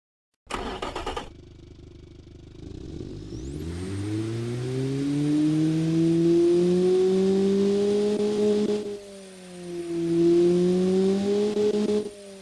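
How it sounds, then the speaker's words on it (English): A car engine starts with a sharp burst, then idles and revs up into a steady, rising drone, dipping briefly before climbing again. "Here's a quick little demo of that engine"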